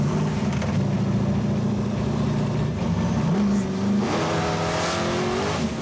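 A 1971 Chevrolet Nova V8 roars loud and close under hard throttle, engine note climbing steadily, dipping at a shift, then pulling up again as the car accelerates.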